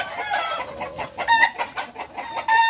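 A gamecock rooster clucks in a series of short, nearby calls, with scattered chicken sounds in the background.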